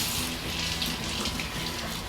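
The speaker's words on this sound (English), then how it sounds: "So now I'm going to rinse it under cold water." Cold tap water runs steadily over prepped jackfruit in a kitchen sink, a continuous close splashing hiss with no talking.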